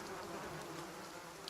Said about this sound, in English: The only answer you hear is the buzzing of flies from the tree.